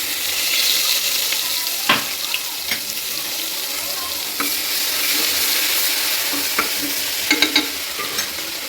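Ginger garlic paste sizzling in hot oil in a pan for kantola curry, a steady frying hiss with scattered stirring clinks and scrapes throughout, fairly close and without talk.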